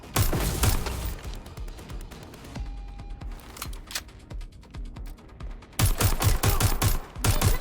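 Rapid automatic gunfire bursts rattle loudly in a Watch Dogs Legion firefight, with dense clusters of shots at the start and end and scattered single cracks between.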